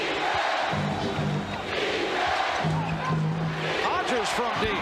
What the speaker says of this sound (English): And again, the crowd getting into it.